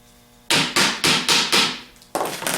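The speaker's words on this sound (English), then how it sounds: "You can hold on to the rectifier and tap the bottom plate one way or the other" A 4G alternator's rectifier bottom plate is tapped into place with a hammer in five quick, sharp metallic knocks, each ringing briefly, then a pause and a sixth strike, close and loud.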